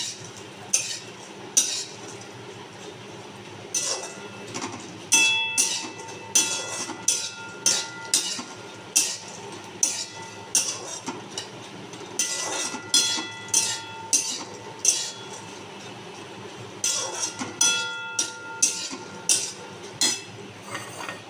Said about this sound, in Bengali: গ্যাসের ফ্লেমটা হাই করে ভেজে নেব, যাতে তেলের কাঁচা গন্ধটা না থাকে।